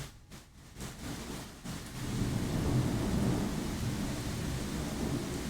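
Thunder from a storm outside: a low rolling rumble rises after a couple of seconds and keeps growling at a moderate distance, with no voices.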